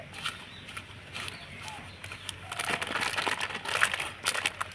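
Plastic packet crinkling and crackling as a lid is pressed on and fastened tight over its mouth at home, a run of close, soft rustles that grow denser and louder toward the end.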